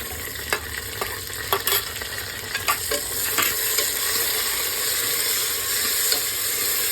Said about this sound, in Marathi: टोमॅटो मऊ होईपर्यंत परतून घ्यायचं आहे।